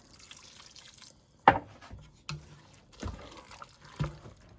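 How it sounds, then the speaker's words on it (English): Water splashes into a pot in a few separate pours and drips, with short bursts and quiet gaps between them, close by. "I'll add a little bit of water."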